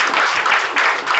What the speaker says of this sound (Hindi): मैं चाहूँगा एक बार गुरु जी के जोरदार ताली बजाइए।